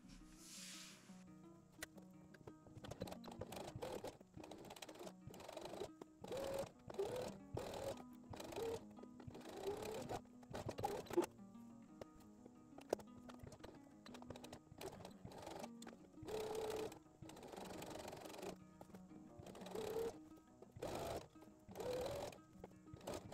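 A sewing machine runs a straight stitch along a dress seam in short, irregular bursts of rapid mechanical clatter separated by brief pauses, fairly quiet and close, with no talking.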